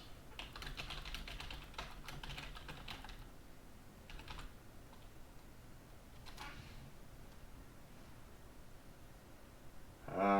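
Keys clatter on a computer keyboard in the Chinatown Detective Agency detective game, bursts of quick typing with short pauses between them, fairly quiet and alone, ending in a brief louder sound.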